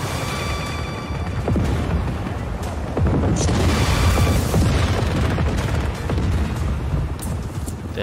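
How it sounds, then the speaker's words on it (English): Repeated explosions from the video game Just Cause 4 boom loudly and continuously over a dense rumbling wash of game noise, with sharp blasts scattered throughout and no break in the din. "The hell are those explosions over?"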